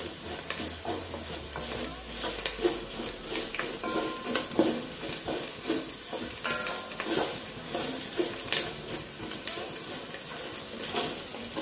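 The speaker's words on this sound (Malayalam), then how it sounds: "നല്ലതുപോലെ വഴറ്റി കൊടുക്കാം." Long-cut garlic and ginger sauté in a pan for bilimbi fruit pickle, with a continuous close sizzle and the repeated scrape and clatter of a spoon stirring through it, steady throughout.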